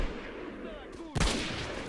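A single loud sniper rifle shot cracks out in the video game S.T.A.L.K.E.R., a sharp close blast with a lingering tail, preceded by quieter game ambience.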